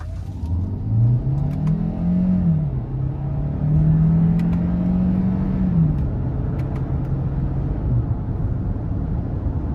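2023 Hyundai Santa Fe Hybrid with a 1.6 turbo engine and 6-speed automatic accelerating, the engine drone rising in pitch, easing through a shift and climbing again, steady and close inside the cabin.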